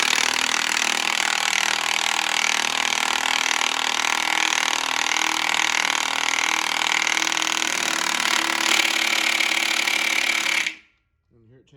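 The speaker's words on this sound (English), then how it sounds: "So we got our big D-walt." Big DeWalt power tool running loud and continuous for about ten seconds while fitting the crank bolt on a Gen5 LT L83 5.3 V8 with an aluminum block, a harsh steady buzz, then cutting off abruptly.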